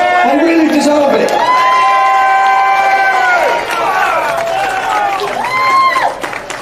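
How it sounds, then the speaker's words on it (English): A crowd at a Britain First rally in Birmingham cheers and applauds its speakers: loud, continuous massed noise with whoops and sustained shouted tones that never let up. "Please give them a big round of applause"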